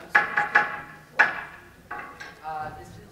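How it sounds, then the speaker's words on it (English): Door sound effect performed by a foley maker, a quick series of wooden knocks and creaky clatters, close and fairly quiet, with a few softer rattling thumps trailing after. "so this is my door sound"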